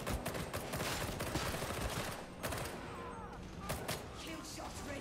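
Rapid automatic gunfire from a weapon in the video game Warhammer 40K Darktide, sustained bursts of loud shots with a few sharper reports, continuous and up close throughout.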